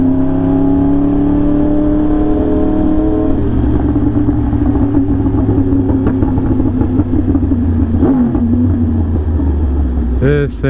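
Yamaha R1M motorcycle fitted with a new SC Project exhaust, riding through city streets: a loud, continuous engine drone with rising and falling revs and harmonic sweeps, rough exhaust rasp throughout.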